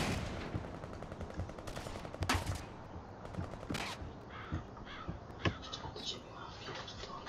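Bursts of gunfire and single shots ring out in The Saboteur, a World War II action game, during an assault on an enemy base, loud at first and then more scattered, with ambient game noise between the shots.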